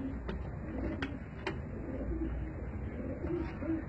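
Soft, low pigeon coos repeat several times in Karachi, with a few sharp ticks and light background noise around them.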